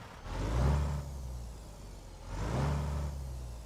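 A modded truck engine sound in American Truck Simulator, a deep close rumble with strong low tones that swells twice as the engine revs up and eases back, heard alone without talk.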